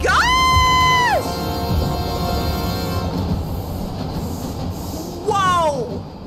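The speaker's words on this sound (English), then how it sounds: "There's a train." A train passes in the video game Last Stop, with two loud horn-like blasts, the first long and the second shorter near the end, over a steady rumbling rail noise.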